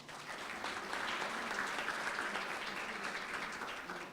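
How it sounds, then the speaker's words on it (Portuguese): Conference audience applauding, a steady even wash of clapping from a crowd in a hall, moderately distant and sustained throughout. "Por favor, uma salva de palmas."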